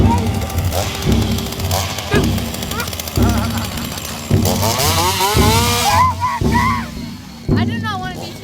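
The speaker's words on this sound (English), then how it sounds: "I do not want to be chased with the chainsaw." A loud engine-driven chainsaw roars and revs at a Halloween scare, its droning growl rising and falling continuously while people shout and talk over it.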